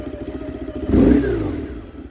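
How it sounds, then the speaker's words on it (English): A BMW R1100 motorcycle's boxer engine idles with a steady lumpy beat, then revs sharply once and settles back down, loud and close with no talking. "So as I rev up the engine, it'll rock left and right"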